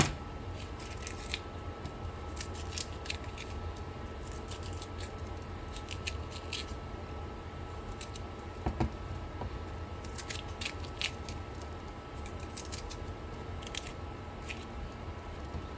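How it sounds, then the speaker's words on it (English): A knife dices jalapeno peppers on a cutting board in a home kitchen, producing a steady stream of quick, light chopping taps close by, with no talking. "what I'm going to do is I'm going to dice this up as well"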